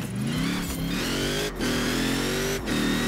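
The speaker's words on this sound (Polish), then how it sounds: "Tutaj lepiej trąbi ten silnik niż klakson." A car engine revs hard in the racing game Forza Horizon 4, rising in pitch in three quick accelerating pulls with brief dips between shifts, loud and close.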